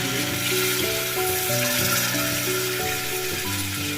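Water hits a pan of frying cauliflower and potato curry, giving a loud, continuous close sizzle with stirring scrapes, no voices.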